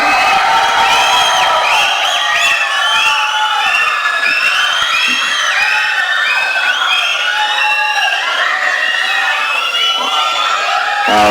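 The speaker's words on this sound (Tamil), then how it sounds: "நல்ல கைத்தட்டலோட நம்ம வீட்டு பிள்ளைனா எம்ஜிஆர், எங்க வீட்டு பிள்ளைனா வேற யாரு, அண்ணன் எஸ்கே அவர்களை பேச அழைக்கிறோம்." Large crowd at a Tamil film audio launch event cheering, whooping and clapping loudly and continuously, a dense wall of voices and applause filling the hall.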